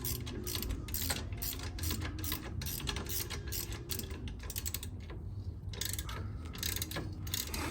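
A ratchet clicks steadily, close and fairly quiet, while someone works on a Harley-Davidson motorcycle. The rapid mechanical clicking runs throughout with brief pauses and no talk.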